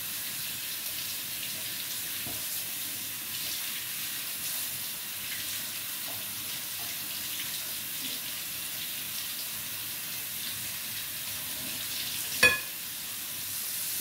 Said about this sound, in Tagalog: hugasan natin mabuti ang ating alimasak